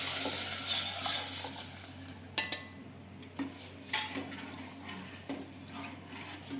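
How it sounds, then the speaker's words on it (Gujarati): Buttermilk mixed with gram flour is poured into a hot pan of sautéed curry leaves, ginger and chilli for Gujarati kadhi, then stirred: a steady sizzling hiss with a few sharp clinks of a spoon against the pan, and no talking. "હવે એમાં આપણે છાશ નાખીએ ચણાના લોટવાળી"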